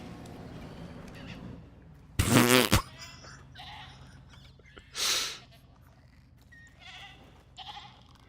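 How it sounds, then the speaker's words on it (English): A loud, raspy goat bleat comes from the video game Jurassic World Evolution 3. A shorter bleat follows a few seconds later, and fainter calls sound over a steady low game ambience. "There is another goat."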